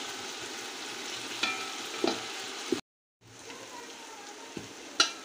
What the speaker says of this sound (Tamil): தக்காளி புதினா வெங்காயம் எல்லாம் போட்டு வந்தோம் இல்லைங்களா, நல்லா ஃப்ரை ஆகிடுச்சு பாருங்கள்